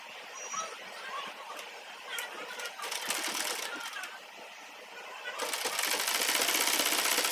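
Sewing machine stitching the side seam of a kurti along marked chalk lines, its rapid mechanical chatter running in close bursts that grow louder and steadier toward the end, with no talk.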